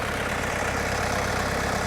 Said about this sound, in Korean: 엔진 소음 들어볼게요